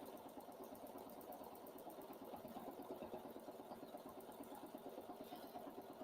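A sewing machine stitching free motion quilting on a ghost garland runs as a steady, fast mechanical whir with a fine rhythmic chatter, continuous and moderately quiet, with no voices.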